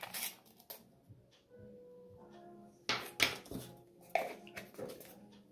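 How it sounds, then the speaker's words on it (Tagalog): Dry ingredients for a vanilla cake batter, including baking powder and vanilla sugar, mixed in a bowl: sparse, close clinks and scrapes of a utensil against the bowl, irregular and fairly quiet, with pauses between bursts. "I-mix lang natin lahat ng ating mga dry ingredients."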